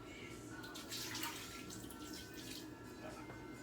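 A kitchen tap runs steadily into a cup, a soft continuous hiss and trickle of water heard close but quiet throughout.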